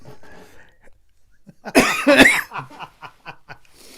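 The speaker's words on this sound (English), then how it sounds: "You get one more cough" A couple of sharp, harsh coughs burst out close by, surrounded by quieter breathy sounds and murmurs.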